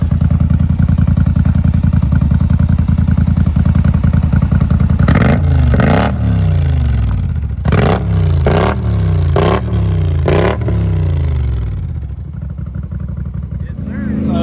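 A Polaris Sportsman ATV fitted with an RJWC Powersports dual slip-on exhaust idles loudly up close, then takes several sharp blips of the throttle that rise and fall before it settles back to a rumbling idle.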